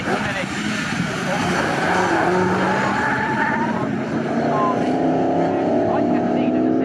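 Pre-1983 Group 1 BMW and Ford Escort touring cars racing at Snetterton circuit, their engines a loud continuous drone with rising and falling pitches as they pass, under a commentator's steady talk.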